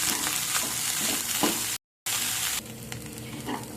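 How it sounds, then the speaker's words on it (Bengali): Sweet corn and chopped carrots frying in a pan for tomato soup, being stirred, a continuous sizzle with scraping stir strokes, briefly cut off midway, then softer frying. "এখন এর মধ্যে দিয়ে দেব কর্ন, আর দিয়ে দেব কেটে রাখা গাজর। এই সব কিছুকে ভালো করে মিক্স করে নেব।"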